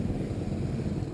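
Suzuki Raider R150 carbureted underbone motorcycle, 2019 third generation, riding along with a steady low engine drone and road rumble, continuous and close, no talking.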